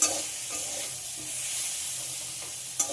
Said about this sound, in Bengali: আদা আর হলুদ দিয়ে ভালোভাবে কষিয়ে নিতে হবে।